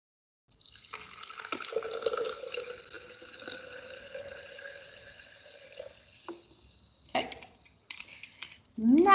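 Carbonated water is poured into a container, giving a continuous trickling, fizzing pour for several seconds that stops, followed by a few small knocks. A voice is heard at the very end.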